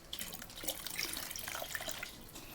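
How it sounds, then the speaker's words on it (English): Water pours and trickles into a container of soaking coconut husk chips, a steady close splashing with scattered drips and bubbling throughout. "You might want to add a little bit more water."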